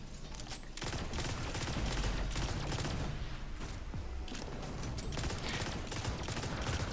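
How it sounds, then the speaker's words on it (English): Sustained weapon fire in the shooter Destiny 2, dense rapid automatic bursts layered into a loud continuous barrage with brief gaps, punchy and close. "I will never get tired of shooting weapons in this game."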